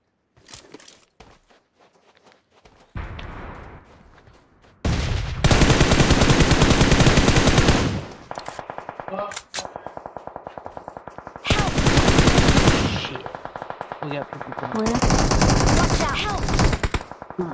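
Heavy automatic gunfire in PUBG Mobile, long loud sustained bursts separated by short pauses with footsteps and softer sounds between them, close and dominant throughout.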